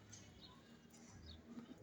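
Two old birds coo outside, soft and faint against quiet ambient noise, a few low murmuring coos near the end of the moment.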